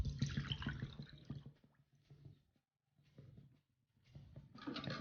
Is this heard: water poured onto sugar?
yes